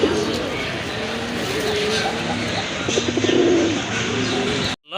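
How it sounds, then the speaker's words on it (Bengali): Light-coloured Rajshahi Giribaj pigeons at a pigeon sale coo in low, repeated throaty phrases, close and clear over faint background noise, swelling briefly before ending abruptly. "এখানে আরেক জোড়া কবুতর রয়েছে"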